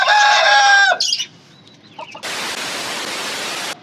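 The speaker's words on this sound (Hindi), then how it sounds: "और मुर्गे ने भाई के हाथ पे काट लिया दाना खाते हुए" A rooster clucks loudly and close up while pecking grain from a hand, then goes quiet before a burst of steady hiss takes over.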